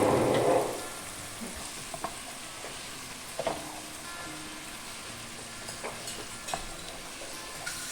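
Chopped onions frying in a pan for stuffed egg curry, a soft steady sizzle with a brief louder burst at the start and scattered clinks of stirring.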